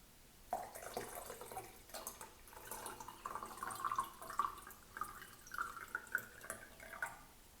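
Water poured onto a potted scented night stock plant in soil, giving faint, irregular trickling and dripping over several seconds, quiet and close.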